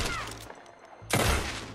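Two loud gunshots in Red Dead Redemption 2, each a sharp broadband blast with a short decaying tail, separated by a brief quiet gap.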